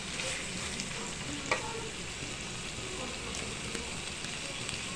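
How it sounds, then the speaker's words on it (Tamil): Mutton masala with pepper sizzles and fries in a pan, a dense, continuous crackle close by with an occasional scrape of stirring, steady and moderately loud with no voices. "இப்போ நம்ம இது வதக்கினதுக்கு அப்புறமா பெப்பர் மட்டும் போட்டு கூட மசாலா போட்டு எடுத்துக்கலாம்"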